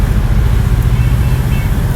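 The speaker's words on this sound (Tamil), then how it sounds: "நல்லா டிராஃபிக் இருக்குது இந்த டைமில்." Dense road traffic near an airport area by Alandur metro rumbles continuously, a steady low engine and tyre roar close by with wind noise and no clear individual passes.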